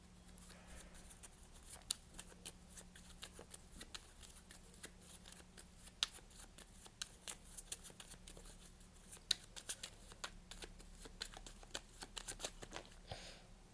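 Tarot cards riffled and shuffled close by, a dense run of quick papery flicks and snaps that continues with no pauses for about fourteen seconds, quiet overall.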